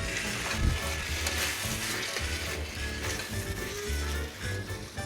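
Semi-pureed blanched tomatoes being stirred into a hot pan, a constant sizzle with rhythmic scraping and low thuds of the spoon, close and steady.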